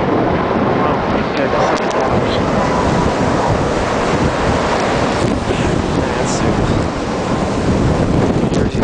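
Ocean surf pounds during a winter storm in New York City, a dense, loud roar of crashing waves mixed with heavy wind buffeting the microphone throughout.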